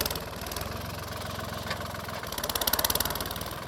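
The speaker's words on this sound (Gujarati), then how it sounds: "જો ટ્રેક્ટર વળતું કરેલા છે." A farm tractor engine idles close by in a field during chickpea sowing, a steady low rhythmic chug with vibration that grows slightly louder and more pulsing toward the end.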